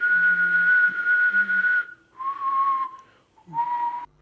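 One person whistles three sustained tones at different pitches, the first long and highest, the next two shorter and lower, each separated by brief pauses, close and clear.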